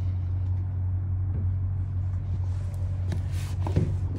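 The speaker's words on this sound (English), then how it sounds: "The bus has just pulled up." School bus pulled up at the curb, its diesel engine idling with a steady low rumble close by, faint clanks and movement on top near the end.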